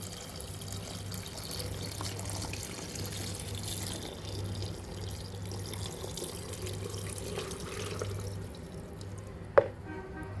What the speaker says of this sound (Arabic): هنزل بالمحلول الملح على الليمون